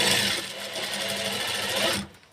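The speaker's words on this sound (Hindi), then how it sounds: "अब उसके बाद हम इसके ऊपर सिलाई लगाएंगे।" A sewing machine stitches a fitting seam on a blouse, running in a steady, fast mechanical whir for about two seconds before stopping abruptly, loud and close with no talking.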